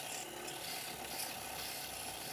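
Sanding discs rub across a complex curved form during a polishing job, giving a faint, steady abrasive rasp that runs continuously and close up, with no talking.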